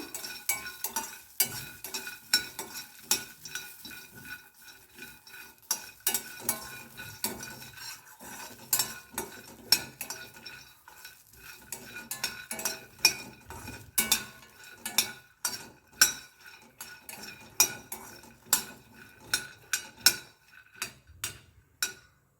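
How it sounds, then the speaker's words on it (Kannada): Peanuts dry-roasting in a pan for a Ganesha sweet offering, stirred with a utensil that scrapes and clinks against the metal in steady repeated strokes, rattling nuts throughout, close up with no voices. "ಶೇಂಗಾ ಹಾಕ್ತಾಯಿದ್ದೀನಿ ಇದನ್ನು ಚೆನ್ನಾಗಿ ಹುರ್ಕೋಬೇಕು"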